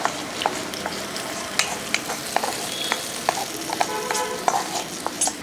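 Hot tempering poured into Paal Kappa, a Kerala tapioca dish cooked in milk, hisses with a steady sizzle, sharp crackles and pops scattered throughout, fairly close and with no talking.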